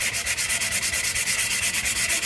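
A wooden pickaxe handle is sanded by hand with 120 grit sandpaper: steady back-and-forth rasping strokes in an even rhythm, close and fairly loud, with no talking.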